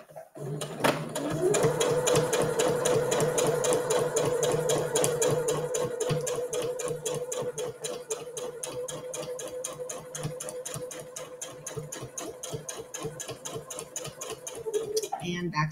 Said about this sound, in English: we're just going to sew all the way down our side seams.